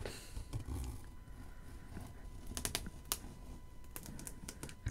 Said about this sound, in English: I'm gonna start the unboxing here by cutting the tape